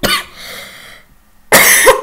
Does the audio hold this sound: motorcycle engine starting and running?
no